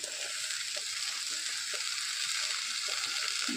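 Taro flowers, potato and eggplant fry in a pan, giving a steady, loud broadband sizzle with faint stirring scrapes throughout, no voices.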